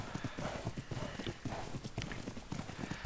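Ridden unicorn hoofbeats from ARK: Survival Evolved form a steady, rapid clip-clop of galloping hooves, rhythmic and continuous throughout at moderate volume.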